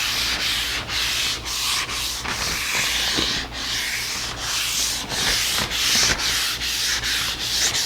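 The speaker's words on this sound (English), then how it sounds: "you can go in any direction because you're not sanding wood, you're sanding a finish" Steady rhythmic rubbing strokes of an abrasive sponge sanding a finish on wooden furniture, a soft hissing scrape repeating back and forth, close and continuous.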